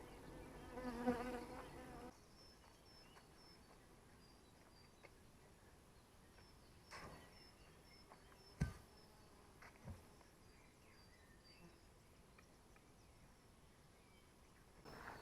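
Bees buzz faintly around hives as a beekeeper inspects colonies and treats them against mites, a steady low hum with a few brief knocks and clicks of hive handling.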